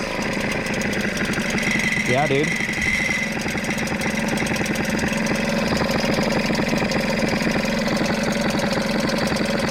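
A small 6hp Hangkai two-stroke outboard engine idles with a rapid, buzzy chatter and steady vibration, close by; someone speaks briefly over it.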